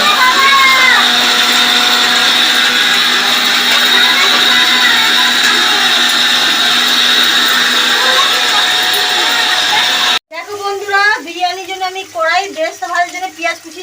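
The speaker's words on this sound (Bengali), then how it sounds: "এখন মিক্সিতে মশলাগুলো ঘুরে করে নিচ্ছে" Electric mixer grinder whirring loudly and steadily as it grinds spices in a home kitchen, running continuously for about ten seconds before cutting off, followed by a voice talking.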